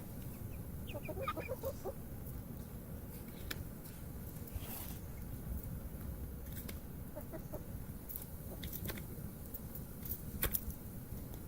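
Chickens cluck and peck in an attic among a torn-open yellow jacket nest, their soft, scattered calls faint over a steady background hiss.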